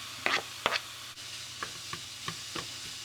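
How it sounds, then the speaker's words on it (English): Onions cooking with meat in a pan for a pierogi filling, heard as a quiet low sizzle broken by a handful of soft, scattered scrapes and clicks of stirring. "I'll add the onions to this to cook them a bit."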